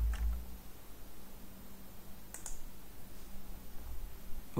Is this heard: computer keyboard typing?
yes